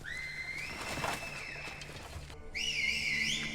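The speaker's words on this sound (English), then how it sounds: "It's so smart to have like whistle codes" Sharp whistle signals sound in two bursts, the first a sustained rising tone and the second a brighter, louder warbling call after a brief pause, with no talk over them.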